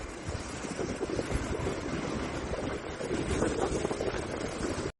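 Ocean waves rolling in with a steady broadband wash and wind buffeting the microphone, loud and continuous for the whole stretch, with no voices heard.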